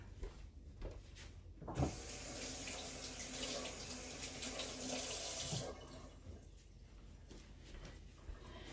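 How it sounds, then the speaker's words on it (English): A kitchen tap runs while hands are washed. The steady water stream swells louder in the middle with splashing, then eases back, all fairly quiet and nearby. "let me wash my hands"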